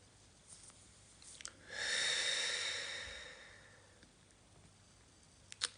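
A single slow, deep belly breath, one soft airy exhale swelling and fading over a couple of seconds, close and quiet in a calm, otherwise silent space with no talking.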